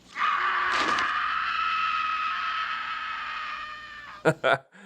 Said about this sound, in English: they'd probably be emitting a blood-curdling scream